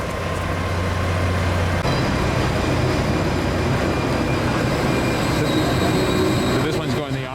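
A train passes steadily nearby in Northern California, a dense continuous rumble with rail noise and a faint high whine, holding loud and even throughout.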